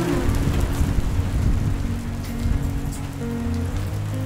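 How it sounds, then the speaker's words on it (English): Steady rain on Isla Mujeres patters on a surface, a constant wash of drops with low rumbling underneath, continuous throughout. "It's raining."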